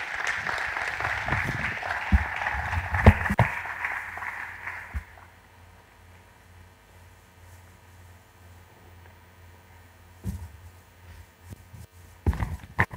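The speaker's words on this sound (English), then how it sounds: "Ladies and gentlemen, shall we please applaud him?" A conference audience at a scientific conference opening ceremony applauds steadily for about five seconds, then the clapping fades into a quiet room with a few scattered knocks and shuffles.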